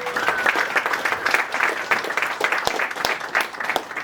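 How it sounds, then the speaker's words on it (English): An audience at a stand-up comedy show claps for a few seconds, a lively patter of many hands at moderate distance with occasional sharper individual claps standing out. "Clap it up for my moms."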